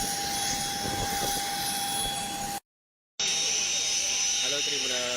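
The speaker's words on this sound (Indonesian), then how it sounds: "Ini detik-detik keberangkatan pesawat yang membawa Kapolda Jambi Irjen Paul Rusdiartono menuju ke rumah sakit" An airplane carrying a regional police chief in Jambi, Indonesia, departs with a steady, loud jet engine roar and a high whine, broken by a brief silent cut before the drone resumes.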